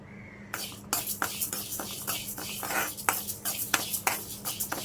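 Washed, drained parippu lentils are dry-roasted in a pan for dal curry, giving a close, busy rattle and repeated scraping clatter as they are stirred.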